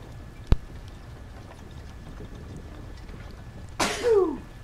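A single sharp sneeze bursts out near the end, loud and close, set against quiet room noise with a gameplay soundtrack in the background.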